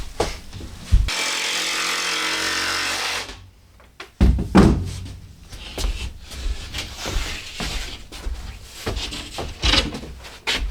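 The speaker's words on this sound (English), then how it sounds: "You could give it a little notch. I'll just do it right here. Just bring in a jigsaw." A jigsaw cutting a small notch in a wooden wall framing piece during a salvaged mobile home rebuild, buzzing steadily for about two seconds nearby, followed by clatters and handling noises.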